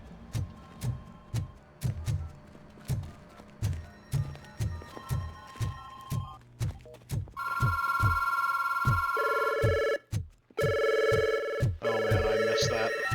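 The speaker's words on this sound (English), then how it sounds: "I missed that particular ringtone." A telephone ringtone chimes in steady tonal bursts over a clip-clopping rhythmic backing, rising louder midway and continuing to the end.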